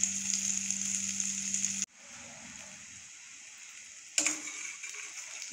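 Black chickpea vada fry in hot oil with a bright, steady sizzle that cuts off abruptly, goes quiet, then flares back up loudly.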